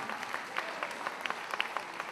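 Festival audience applauding a singer, a scattered patter of claps with individual sharp hand strikes standing out, moderately distant and fairly light, with no voices on top.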